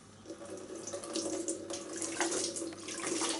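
Clean tap water runs steadily into a sink to rinse out a home-brewing funnel while making a Brewmaker Pilsner lager, a continuous close splashing flow with no voices.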